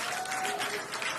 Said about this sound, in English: The crowd here at Mission Control Hawthorne also getting excited, just like us.